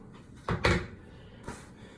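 Knuckles knock on a hard, dry triple-milled shave soap puck, giving two short, sharp hollow raps close up, a double tap followed by a single one, with quiet room tone between and no talking.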